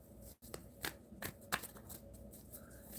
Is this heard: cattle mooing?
no